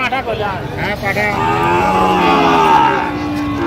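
A Sahiwal bull or calf at a cattle market in Dhaka gives one long, loud, close moo that rises and holds in a drawn-out lowing call against a murmuring market background.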